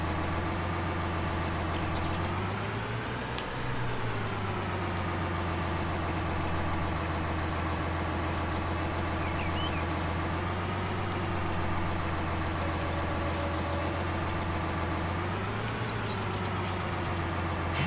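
Tractor engine in Farming Simulator 19 running steadily throughout, a loud continuous low drone with slight rises in pitch as it revs, alone without talk.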